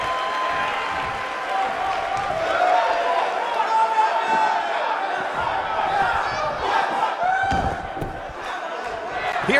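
A large wrestling arena crowd in WWE 2K19 roars and cheers steadily throughout, with thuds from the ring and a commentator's voice running over the din.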